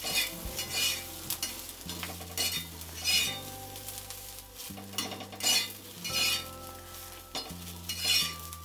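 Cumin, a whole head of garlic and green chillies roast in a pan for thecha while a spoon stirs steadily, with close scraping strokes over a soft continuous sizzle and no talk.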